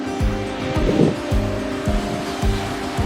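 Madheghat waterfall pours down a cliff in the Sahyadri hills, a steady broad rushing roar of falling water that runs loud and unbroken, with faint recurring low thumps underneath.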